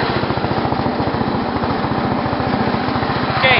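A racing tractor engine idles close by, a fast, even chugging pulse that runs loud and steady throughout without a break.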